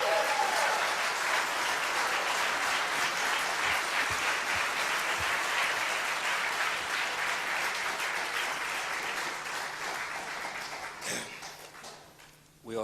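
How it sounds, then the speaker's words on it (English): Sustained applause fills a debate hall, a steady dense roar of clapping from a large audience that holds for about eleven seconds, then thins out into scattered claps and a few sharp knocks at the end. "We ought to hold the applause till the end."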